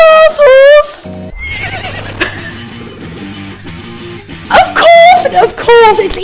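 Cartoonish horse neighs from the Super Lesbian Horse RPG Maker game, a loud whinny at the start and again near the end, with game music and other effects playing between them.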